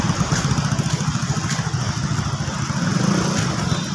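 A motorcycle engine runs steadily during riding practice, a loud, close, continuous putter with a slight pulsing rhythm and no clear talking.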